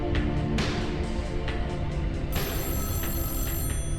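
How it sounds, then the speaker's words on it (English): A telephone rings in a lobby in the video game Echostasis, with repeated electronic ring bursts at a steady rhythm, moderately loud with no talk. "I hear a phone ringing."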